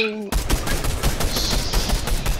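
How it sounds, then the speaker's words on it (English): Rapid gunfire in a video game shooter with snipers, a dense burst of loud, close shots rattling continuously for about two seconds after a brief tonal sound. "Where are they shooting from?"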